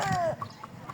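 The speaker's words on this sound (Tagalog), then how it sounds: "May manok, guys." A chicken gives a short, nearby cluck, followed by fainter chirps from other birds in the background.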